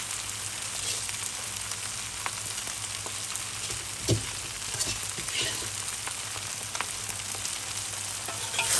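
Glass noodles with egg stir-fried in a large wok, with spring onion, celery leaves and fried garlic added, give a steady, close sizzle with scraping stirs and a brief louder clatter midway.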